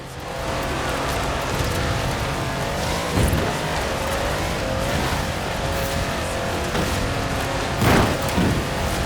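A 6x6 off-road truck, originally built for the Australian Army, drives in Forza Horizon 4 with a steady loud engine roar and brief tire squeals, continuous and close throughout.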